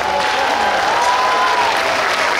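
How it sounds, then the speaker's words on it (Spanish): Crowd applause at a Day of the Dead huehuentones presentation in San José Tenango, a continuous dense clapping wash with a faint whistle-like tone gliding over it. "aplausos"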